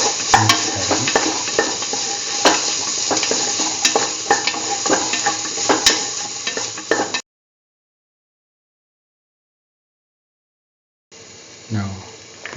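Potato pieces fry in a pan while being stirred, giving a steady sizzle with scraping and clinking of the utensil for several seconds, then silence before a brief return of sizzling.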